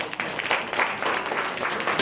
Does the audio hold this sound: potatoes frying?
no